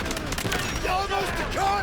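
Rapid gunfire bursts crackle in the shooter video game Delta Force, a quick run of close shots under a player's talking.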